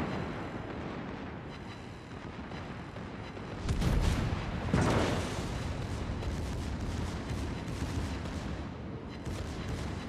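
Secondary guns on a battleship in World of Warships, a dense continuous rumble of rapid cannon fire with heavier booming blasts rising midway, steady and loud throughout, with almost no talk.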